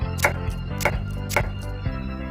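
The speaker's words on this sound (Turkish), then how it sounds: "İnce ince doğruyoruz domatesleri." A knife finely chops tomatoes on a board with several crisp, evenly spaced strikes, close and distinct over a low background hum.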